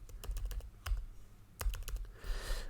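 Typing on a computer keyboard while entering a database query in Python, with bursts of close, crisp key clicks separated by short pauses, no talking.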